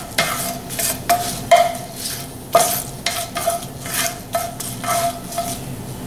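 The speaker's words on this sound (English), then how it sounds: "Basically what I'm doing is to keep these moving, and you want to just saute them just a little bit" Aromatics for General Tso's chicken kept moving in a hot pan: a crackling sizzle broken by repeated spatula clanks and scrapes against the metal, loud and close.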